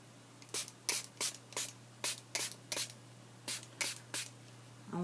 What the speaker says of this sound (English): I'm just spraying it.